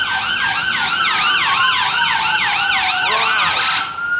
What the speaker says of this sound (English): Right next to London's busiest ambulance station.